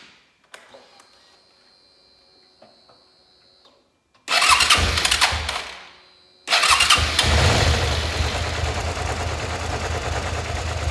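A Suzuki SV650 motorcycle being restarted during an oil and filter change cranks and catches in a loud burst that quickly fades out, then fires again and settles into a steady running rumble nearby.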